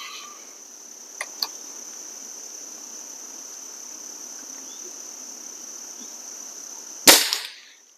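Trigger pull on a Diana 250 air rifle with the safety off: two faint small clicks, then one sharp, loud crack near the end, heard over a steady high insect chirring outdoors.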